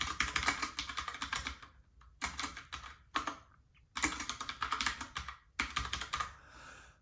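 Steady typing on an Astrohaus Freewrite writing device with a mechanical keyboard. Several bursts of rapid, clacky keystrokes sit close to the mic, separated by brief pauses, with no talk.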